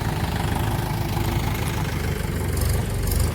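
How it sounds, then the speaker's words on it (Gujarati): A tractor engine idles steadily with a low, continuous rumble and chugging vibration, close by and with no speech. "ભાઈ આવી ગયું છે ટ્રેક્ટર ખાલી કરવા"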